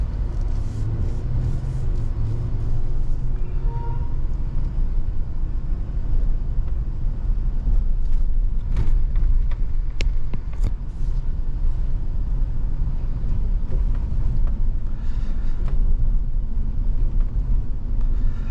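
A 2022 Chevrolet Silverado 1500 ZR2 truck cruises down the road, heard from the cabin as a constant deep rumble of engine and tyres with wind noise and occasional clicks and knocks, steady and unbroken, no voices.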